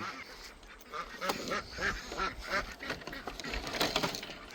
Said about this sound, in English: Talking to the ducks. Get back in there, bud. Ducks, go outside.